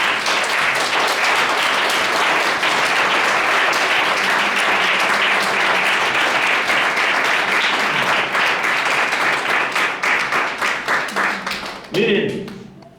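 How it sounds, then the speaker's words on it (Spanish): Church congregation clapping for Christ during a service, sustained loud applause filling the room for about ten seconds and then fading into a few scattered claps, with a voice heard near the end. "Pues dale palmas a Cristo Jesús."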